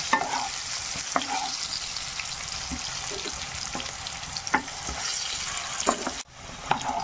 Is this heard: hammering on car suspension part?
no